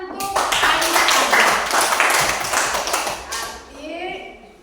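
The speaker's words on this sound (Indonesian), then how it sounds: "Tepuk tangan untuk Aisyah." A group of schoolchildren claps for a girl named Aisyah in a classroom, a dense burst of hand claps lasting a few seconds that fades toward the end, with voices mixed in.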